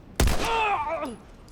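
A single sharp gunshot rings out in The Last of Us Remastered, a loud broadband crack followed by a ringing, descending tonal tail that fades over about a second.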